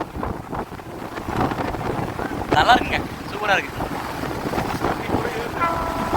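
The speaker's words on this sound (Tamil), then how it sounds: "மழை பாருங்க எங்கே வரைக்கும் அலை அடிக்குது" Sea waves at Dhanushkodi wash steadily onto the shore under gusty wind buffeting the microphone, with people chatting close by over the surf.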